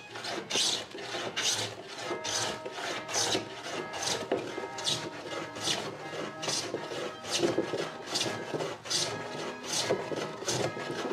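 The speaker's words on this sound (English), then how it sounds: "let's go back to planing." A hand plane shaves a wooden board in repeated rasping strokes, roughly a dozen evenly spaced passes, close and fairly quiet, with no talking.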